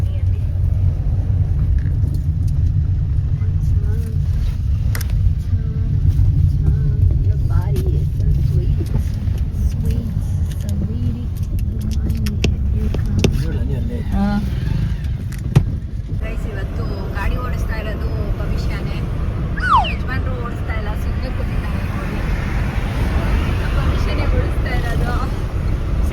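A car on the road gives a continuous low engine and road rumble throughout, loud and close as from inside the vehicle, with people talking over it.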